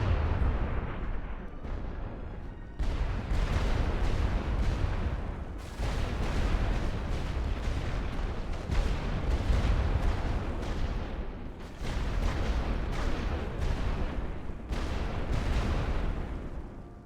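Heavy World War I artillery guns firing in The Great War: Western Front, a loud continuous barrage with deep booming blasts, rumbling bursts that break off briefly around a few points, no talking.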